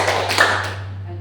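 At a school discussion session, a group of adults gives a couple of quick, close hand claps together, followed by a fading room tone with a steady low electrical hum underneath.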